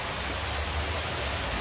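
Steady rain falls in Macaúbas, Bahia, a dense, even wash of drops that holds without a break from start to end, with no voices.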